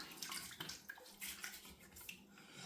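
Tap water runs into a sink to wet a Simpson T3 shaving brush, a faint, continuous splashing trickle with no voices.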